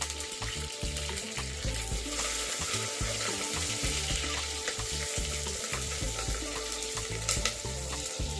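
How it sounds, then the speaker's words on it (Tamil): Ten garlic cloves fry and sizzle in hot oil in a pan for fish curry, a steady close crackle with occasional stirring scrapes throughout, no voices. "10 பல்லு பூண்டு போட்டு நல்லா வதக்கி விட்டுக்கோங்க"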